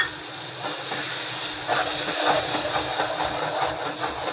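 Wet ground coconut paste hits a pan of roasted spices for a bottle gourd curry, giving a steady, loud sizzling hiss that swells slightly midway and carries on throughout.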